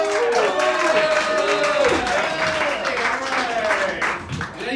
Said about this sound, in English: Let's keep those hands a-clapping as this next comedian comes up to the stage